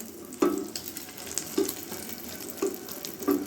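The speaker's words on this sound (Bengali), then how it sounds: "তেলটাও গরম হয়ে গেছে। এখন আমি ডিমগুলো দিয়ে দেব। আমি ডিমটা ভেজে নেব।" Eggs fry in hot oil in a pan with a steady crackling sizzle, broken by a few louder spitting bursts spaced about a second apart, with no talking.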